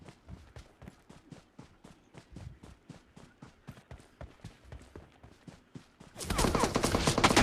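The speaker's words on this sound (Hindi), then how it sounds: "तो ये देखो ये फायरिंग।" Rapid gunfire in BGMI, a steady rhythm of sharp shots for about six seconds, then a louder, denser burst of sustained fire at the end; no talking.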